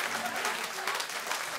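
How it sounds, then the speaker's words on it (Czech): An audience claps warmly at a show, a brief stretch of steady crowd applause with voices mixed in. "A publikum tady srdečně tleská,"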